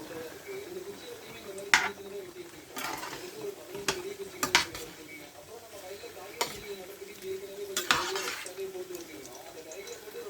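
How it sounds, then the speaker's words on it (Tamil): A shrimp curry in a pan is stirred, its bubbling simmer punctuated by repeated scrapes and clinks of a spoon against the metal, while someone talks over it. "நல்லா கிளறி விட்டுக்கலாம்"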